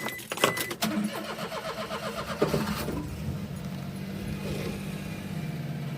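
A kei car's engine cranks briefly and catches, then settles into a steady, close idle that runs on alone to the end.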